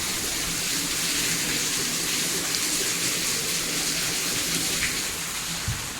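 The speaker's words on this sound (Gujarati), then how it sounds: "વરસાદ ચાલુ છે મસ્તનો" Steady rain pouring down in a continuous wash of noise, fairly close, with no talking.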